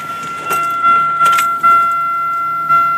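Car ignition switched to the run position with a key: a few soft clicks and key-jangle rattles over a steady electronic chime tone, close and quiet, with no engine cranking.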